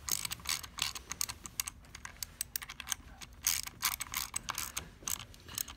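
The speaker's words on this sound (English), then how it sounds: "So this is a 7mm socket." A ratchet turning a 7mm socket on a Delta Environmental septic pump during a rebuild gives close, rapid bursts of fine clicking pawl ticks, repeated in short runs with brief pauses between.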